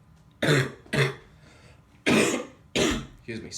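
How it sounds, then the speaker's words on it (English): Several harsh coughs come in a loose series, two quick ones, a pause, then more, close to the listener with no talk between them. "Start coughing my lungs out when I start talking about that."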